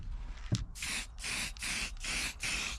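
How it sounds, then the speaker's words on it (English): Spray can hissing out leftover paint in a video game, four steady bursts of about half a second each after a short initial puff, close and fairly loud with no talking. "Oh, there's still paint left in this spray can."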